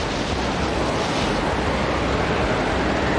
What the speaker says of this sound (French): on entend le vent souffler